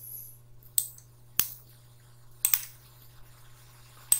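Computer keyboard keys pressed for a Ctrl D shortcut in CorelDraw, a handful of sharp isolated clicks spaced apart over a low steady hum, near and fairly quiet, with no talk.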